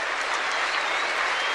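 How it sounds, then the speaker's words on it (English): A stadium crowd applauds the top seed after the 1979 Australian Open tennis final, a loud, sustained wash of clapping from many hands filling the whole stretch. "the whole stadium rising to its feet to applaud the tournament's #1 seed"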